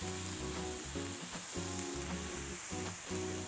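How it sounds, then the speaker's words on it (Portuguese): Bacon spread out and browning in a pan, a constant close sizzle with faint stirring movements under it, no speech. "Vou espalhar o bacon aqui. Vou dourar um pouco desse bacon."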